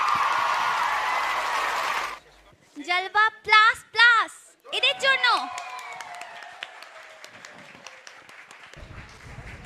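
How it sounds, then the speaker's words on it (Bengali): A short burst of audience clapping and cheering at a children's dance show lasts about two seconds, then fades out as a voice begins speaking. "ওদের জন্য একটা জোরে হাততালি হওয়া উচিত"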